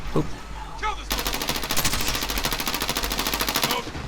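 Gunfire in the video game Call of Duty Warzone: a sustained rapid automatic burst of evenly spaced shots, loud and close, after a brief lead-in of scattered game sounds.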